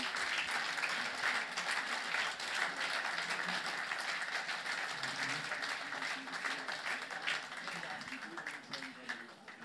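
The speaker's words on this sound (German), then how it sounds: "Denn ein Applaus für die Profis des ersten FC Kaiserslautern" Stadium crowd applauding as FC Kaiserslautern professionals are welcomed at a birthday celebration event, broad sustained clapping and cheering that fills the whole stretch, loud and dense, slowly easing toward the end.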